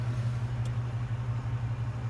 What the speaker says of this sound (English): The engine will probably be a little bit loud, so I'm gonna kind of speak up.